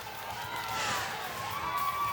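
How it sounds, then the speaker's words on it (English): Spectators cheer and shout at a youth female ironman surf race finish in the WA surf league, a steady, excited crowd roar with a few higher whoops rising above it. "Crowd's gone crazy here."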